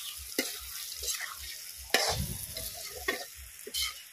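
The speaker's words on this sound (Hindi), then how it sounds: "चारों तरफ से अच्छी तरह देख के चलाएंगे, कहीं चिपके ना कढ़ाई में।" Bitter gourd curry being stirred in a kadhai over a low flame, with repeated scraping strokes of the spoon against the pan under a steady oily sizzle, close and moderately loud.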